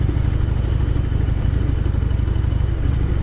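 A stock-exhaust Harley Superglide with a 96 cubic inch air-cooled engine idles nearby, a loud steady low rumble with an even pulsing beat.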